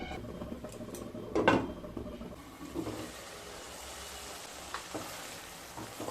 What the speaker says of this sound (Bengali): দিয়ে আবারও খুব ভালোভাবে কষিয়ে নেব।